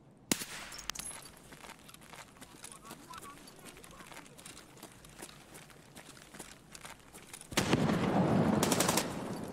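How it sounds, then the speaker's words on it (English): Gunfire in the video game Escape from Tarkov near a gas station, with scattered sharp shot transients through the clip, then a louder, dense burst of rapid fire in the final two seconds. "Shots at gas station."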